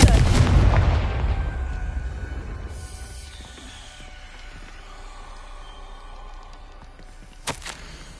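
Confringo explosive curse in Hogwarts Legacy, a heavy booming blast that opens loud and close, then decays into a long rumbling tail with a lower hum and a sharp crack near the end.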